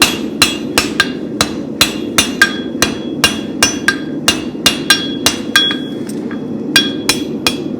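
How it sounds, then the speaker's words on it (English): A hammer strikes hot steel on an anvil while a spavin horseshoe is forge-welded, about twenty sharp ringing blows in a steady rhythm, close and loud over a low roar of the forge. "So out we come, round, weld the front real gentle"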